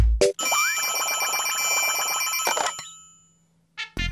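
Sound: bell ringing in Pocoyo cartoon

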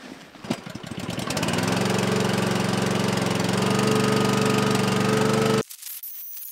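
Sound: petrol engine running a hydraulic power pack for the winch

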